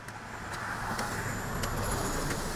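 A fast car rushing past on a road in the Bicol region, heard as steady, loud broadband road noise with rising and falling engine and tire roar, no voices.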